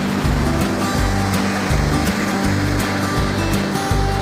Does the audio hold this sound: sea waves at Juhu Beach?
yes